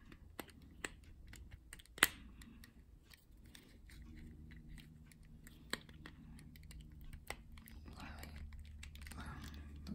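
Plastic ball joints on a Tamashii Nations S.H. MonsterArts Godzilla 1962 action figure pressed back into their sockets, giving a few scattered sharp, faint clicks, one louder snap, over a quiet low background hum.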